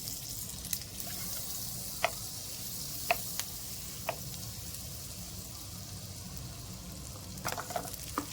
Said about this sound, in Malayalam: ഇനി വെജിറ്റബിൾസ് ഒന്ന് വഴറ്റിയെടുക്കണം.